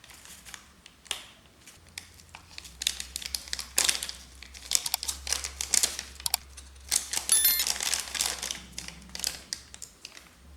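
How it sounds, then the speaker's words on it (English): An instant ramen package being torn open and its soup packet cut with scissors: bursts of crinkly plastic crackling and tearing, close and moderately loud, with a low steady hum underneath. "You tear open the noodle package and take out the noodle inside."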